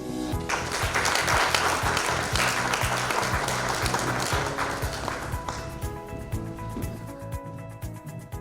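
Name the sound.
audience applause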